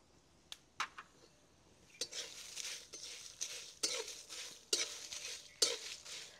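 Moringa leaves and dried red chili are stirred in a pan, with scattered scraping and clinking strokes and soft sizzling, fairly quiet and close, with no talk.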